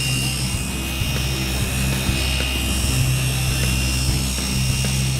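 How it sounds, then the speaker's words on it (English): An EVO 15 polisher running at speed 5 with a heavy wool pad gives a steady, loud motor whine and hum that stays constant throughout. "I'm going to increase to 5 on the dial of the EVO 15"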